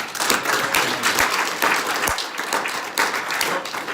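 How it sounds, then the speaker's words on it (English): A crowd at a company training event gives a sustained round of applause for a regional director, a thick, even patter of many hands clapping close by, with occasional louder single claps and no speech on top. "Let's give her a round of applause"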